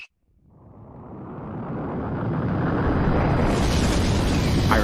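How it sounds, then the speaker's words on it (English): A Big Bang explosion effect in a documentary about time swells from silence into a broad, rumbling roar that grows louder and fills the space, with no talking over it. "our entire universe was born in the Big Bang"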